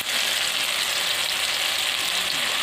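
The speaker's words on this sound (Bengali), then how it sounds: "পেঁয়াজটাকে ভালোভাবে ভেজে নিতে হবে।" Onion, tomato and ginger paste fry in a pan with a loud, steady, close sizzle that hisses on without a break.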